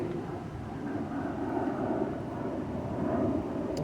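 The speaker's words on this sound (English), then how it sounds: "Let this plane do what it's going to do for a second." An airplane passes overhead outdoors on a nature walk, a steady distant low roar that lingers at moderate level and slowly fades, with no voices.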